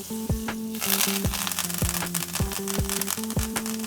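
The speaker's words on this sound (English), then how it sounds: "We're gonna let them cook in that butter" Tenderloin filets fry in butter with herbs and garlic, giving a steady loud crackling sizzle with repeated sharp pops throughout, close up and without talk.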